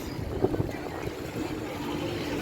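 Steady wind rushes across the microphone in a low, rumbling buffet, with gusts swelling and easing over a couple of seconds.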